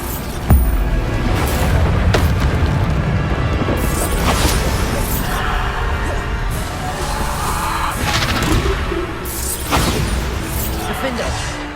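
Repeated Bombarda exploding spells in the video game Hogwarts Legacy burst out as crashing booms and smashes, several blasts spread across the stretch with a sharp hit near the start, amid constant game combat noise.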